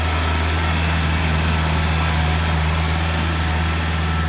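A Yanmar EF514T tractor with a modified exhaust runs steadily while ploughing a rice field, a loud, close, continuous diesel drone with a deep low hum and no talk.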